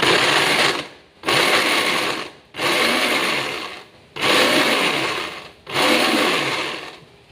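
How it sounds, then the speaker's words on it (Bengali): An electric mixer grinder pulverizes boiled potato for aloo paratha in five loud bursts, each a few seconds long and separated by brief pauses, with nothing else heard. "এটাকে জাস্ট গুঁড়ো করে নেব মিক্সারে।"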